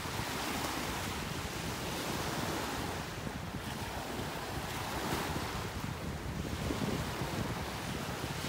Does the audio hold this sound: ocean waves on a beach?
yes